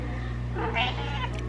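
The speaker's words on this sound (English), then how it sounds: "I don't have it, kitty." A pet house cat gives one brief meow in a kitchen where cheese is being grated, heard over a steady low hum.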